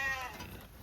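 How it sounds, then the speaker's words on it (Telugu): A four-month-old lamb at a weekly livestock market lets out a single short, wavering bleat, close and fairly clear over a soft ambient hum. "ఇది 4 నెలల కొదుమ పిల్ల అండి"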